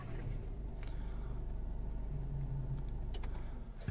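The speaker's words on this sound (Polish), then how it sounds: "Potwierdził, więc można bezpiecznie odpalić auto." 2020 Skoda Superb Scout engine idling just after starting, a low, steady rumble with a faint mechanical hum throughout, heard quietly from inside or near the car.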